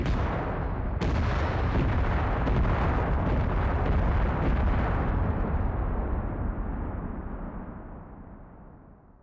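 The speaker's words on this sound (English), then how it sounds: "So, explosion!" A huge explosion in the game Astroneer bursts with a sharp crack, then rolls on as a long, loud, rumbling roar that slowly fades out over several seconds.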